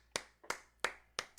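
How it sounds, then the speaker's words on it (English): A single person claps hands four times in an even, unhurried rhythm, each clap sharp and close, with near silence between them. "I just clapped for you."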